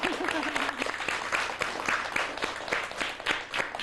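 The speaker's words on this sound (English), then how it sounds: "now I want you to give yourselves a round of applause" Lively applause and clapping from a grade-school class and audience, close and fairly loud, with a voice briefly speaking over it at the start.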